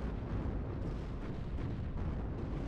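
Explosions from a jet attack in the WARNO strategy video game, a dense, continuous low rumble of blasts and bursts that stays fairly faint and steady throughout.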